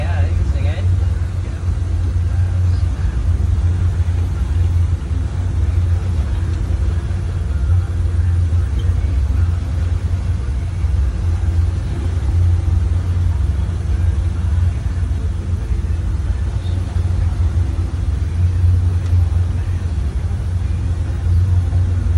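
A boat engine idling, a steady low rumble that continues without a break, with talk apparently running over it.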